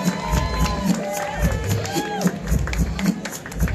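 A comedy club audience in San Francisco cheers and applauds as a comedian is introduced, a steady wash of clapping with whoops and shouts throughout.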